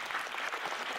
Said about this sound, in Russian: Вообще похлопайте себе сейчас,